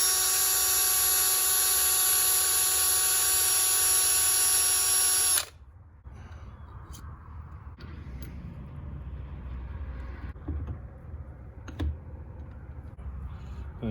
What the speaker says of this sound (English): Got some steel wool with a drill bit just to so it'll bite onto it